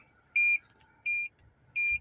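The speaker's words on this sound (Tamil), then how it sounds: "அங்கே அலாரம் அடிக்குது பாருங்க" Three evenly spaced electronic alarm beeps, clear and high-pitched, each about a quarter second long, over quiet background.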